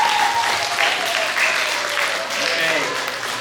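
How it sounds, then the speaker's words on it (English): An assembly audience applauds a samba dance group, with a continuous wash of many hands clapping at moderate distance and a faint sustained tone and voices underneath. "So give a round of applause to Samba OlyWa."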